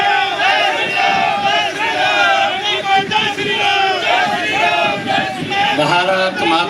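Large crowd at a 2024 Lok Sabha election rally in Baroda cheering and chanting in loud, sustained, rhythmic unison, with voices rising and falling together.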